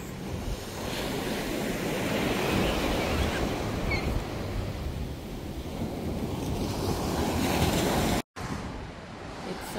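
Ocean surf rolls steadily onto a Cancun beach below a hotel rooftop, a loud continuous wash of breaking waves mixed with wind buffeting the microphone, with a brief dropout near the end.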